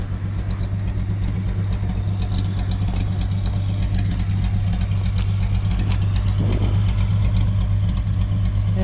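A worn, smoky 1962 Willys Utility Wagon engine idles loud and steady up close, a low rough rumble with faint knocking running unbroken through the whole stretch.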